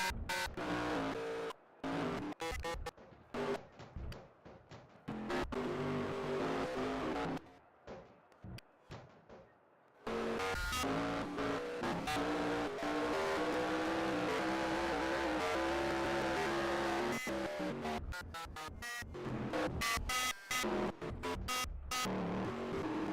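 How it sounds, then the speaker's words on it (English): Race trucks from a NASCAR-style truck series competing on a track during a doubleheader, engines roaring loudly as packs pass, with rising and falling revs, brief drop-outs, and near-continuous motor noise throughout, no talking. "Sights and sounds of the trucks."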